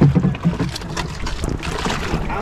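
A small wooden rowing boat moves on water during a trip to gather clams and oysters, giving a steady low splash and wash with wind buffeting the microphone throughout.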